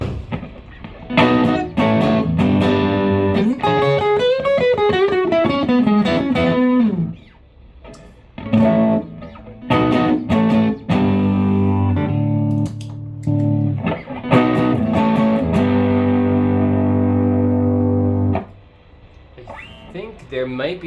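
Electric guitar through an overdrive pedal on its distortion setting plays loud bursts of driven chords and melodic phrases separated by short gaps, with a few words spoken between passages.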